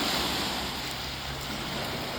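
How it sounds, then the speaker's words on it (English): Ocean surf rolls onto a beach on a dark February day, a continuous broadband wash with wind buffeting the microphone, steady and fairly loud with no voices. "I can't believe I'm at the beach in February."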